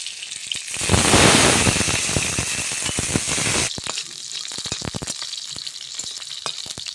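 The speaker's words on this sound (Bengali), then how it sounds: "এবার বেশি ভাজবো না, অল্প একটু ভেজে নেব" Garlic and green chilies hit hot oil with a loud burst of sizzling that settles after a few seconds into steady crackling and popping as they fry for a dish of beto greens.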